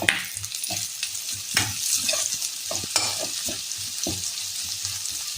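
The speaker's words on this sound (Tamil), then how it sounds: "இந்த ஆனியன் போட்டுக்கலாம். இது கொஞ்சமாக வதக்கட்டும்." Onions sauté in a pan for tomato soup, crackling with a bright, steady sizzle as a spoon stirs and scrapes in irregular bursts, close up and with no voices.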